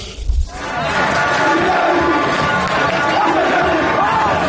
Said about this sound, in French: Une foule immense, des chants et des cris de joie pour une ambiance incandescente